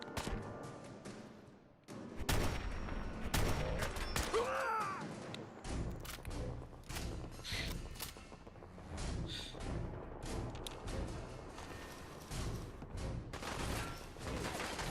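Gunfire in the Fallout 4 video game, a dense run of sharp shots and thuds bursting close and loud across the whole stretch, with brief pauses between volleys.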